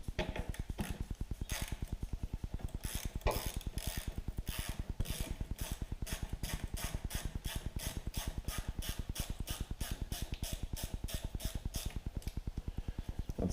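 A hand ratchet with an 8 mm socket loosens a hose clamp on the turbo hose of a Jeep Liberty CRD, a close, fast and even run of clicking strokes repeating steadily throughout with no talking.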